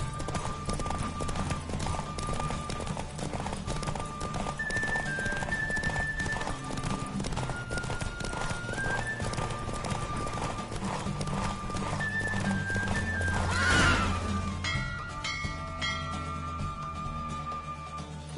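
A horse gallops in a race in The Witcher 3, with rapid continuous hoofbeats over a game music bed and occasional neighs, ending in a louder surge as the run finishes.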